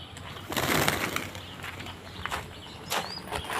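Pigeons gather on a main road, wings flapping in several short bursts with faint cooing and soft calls between, close by, with street ambience underneath and no talk.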